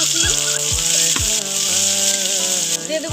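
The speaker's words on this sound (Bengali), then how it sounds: "কড়াইতে দিয়ে দেবো তেল পেঁয়াজ কুচি লঙ্কা" Oil with chopped onion and chili frying in a wok, a steady bright sizzle with a few stirring knocks, running continuously under melodic background music.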